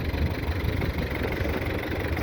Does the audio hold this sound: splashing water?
no